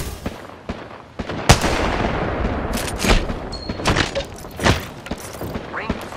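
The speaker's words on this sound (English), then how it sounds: "A second squad is firing at us." Sustained enemy squad gunfire in a shooter video game, a dense barrage of sharp cracks and booms over rumbling noise, several loud close impacts standing out across the stretch.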